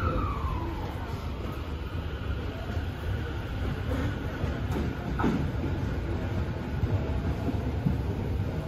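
A Tokyo Metro Tozai Line train departs Minamisunamachi station during the morning rush, a steady loud rumble of rolling stock filling the platform throughout with faint tonal squeals above it.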